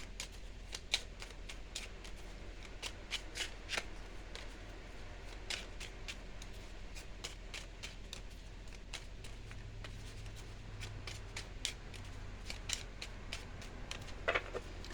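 Tarot cards are shuffled in a long, steady run of crisp riffling snaps and flutters, close and fairly quiet, with a soft low hum beneath and no talking.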